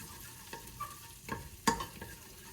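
Onions frying in butter in a pan, with a soft background sizzle and a few brief stirring scrapes and clinks, the loudest near the end, with no talk.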